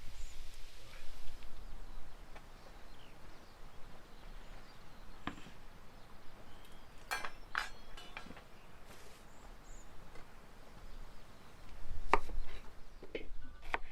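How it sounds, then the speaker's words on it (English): Onions being chopped with a knife on a board while fire-cooked beef tongue is prepared, sparse scattered cutting taps under a soft ambient hiss, with a louder stretch near the end. "Now she's chopping onions,"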